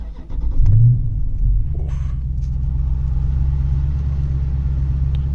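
A Dodge Challenger 392 SRT Hemi V8 cranks and fires with a loud, brief surge, then settles into a deep, steady idle rumble heard from inside the car; one short exclamation from a voice early on.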